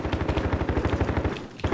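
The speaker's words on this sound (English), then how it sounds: "Someone's shooting us" Rapid automatic gunfire in the video game Warzone, a fast steady stream of loud shots lasting under two seconds with a brief break near the end, no talking over it.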